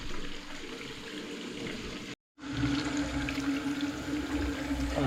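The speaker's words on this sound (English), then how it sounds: "I'll fill this up, check this waste, fill it up to overflow." Tap water runs steadily into a bathroom basin that is being filled to check the waste and overflow, a continuous close rushing that cuts out briefly and then resumes.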